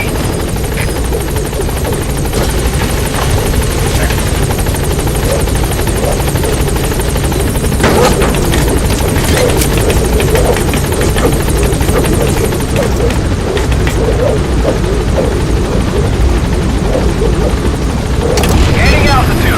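B-Quad support helicopter in Metal Gear Solid V landing at a landing zone, its rotor roar loud, dense and constant throughout, with radio voices speaking over it.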